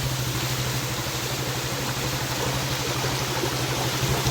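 Heavy rain pours steadily over floodwater in Jaffna, a dense, constant wash of close, loud noise with no talk.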